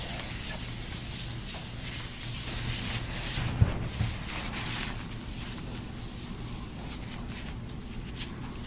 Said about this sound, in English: I have this cleanser here. Rub it in my hands first and then apply it to this.